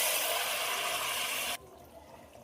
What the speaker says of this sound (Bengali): দিয়ে দেবো জল, গরম জল দিয়ে দেবো।